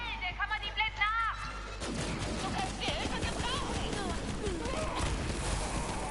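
A loud burst erupts in the Borderlands 3 video game, giving way to a dense, crashing wash of debris and noise that lingers for several seconds. Game voices and sound effects overlap it.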